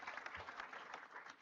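An audience applauds Samantha at a public talk on political polarization with Governor Larry Hogan, a dense, steady wash of many hands clapping together for a brief moment.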